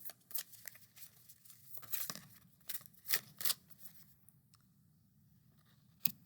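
Several quick papery riffles and flicks of an oracle card deck come in short bursts with pauses between, crisp and close, then a single snap at the end.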